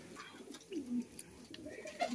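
Kalsire pigeons kept indoors coo softly in a room, low murmuring calls close by, with faint shuffling and background noise.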